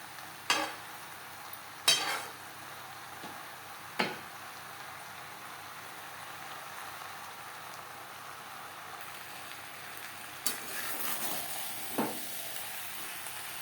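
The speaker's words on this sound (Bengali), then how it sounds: "মশলার সাথে আলু পটলেরও তিন চার মিনিট রান্না করে নেব" Potatoes and pointed gourd cook with spices in a pan for a shrimp dish, giving a soft, steady sizzle with a few occasional scrapes and knocks of a spatula stirring through.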